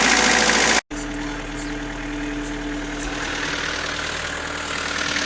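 A Nissan Navara D21 engine idles while warming up after a radiator replacement, a steady close rumbling hum with a brief cut in the sound near the start.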